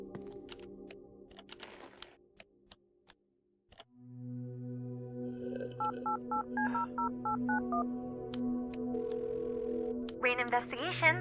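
Cell phone dialing in the video game Kathy Rain 2: a rapid run of short keypad tones over a steady ringing tone, preceded by faint clicks and followed by a fluttering electronic chirp.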